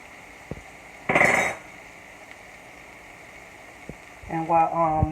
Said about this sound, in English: Now I'm going to drop my scallops in there